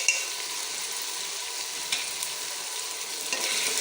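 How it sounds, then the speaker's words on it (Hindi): Potatoes and turmeric fry in oil with a constant hiss-like sizzle, close and even, marked by a few faint utensil taps against the pan. "अब हम हल्दी को भी ऑयल में भूनेंगे"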